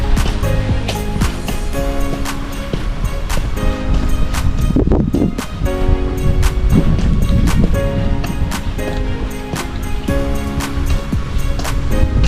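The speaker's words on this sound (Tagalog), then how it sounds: "mahina na po ang hangin hindi na po katulad nung umaga" Wind during Typhoon Kristine, now weaker than in the morning, blowing as a continuous rushing roar with gusty swells and rustling, fairly loud throughout, no voices.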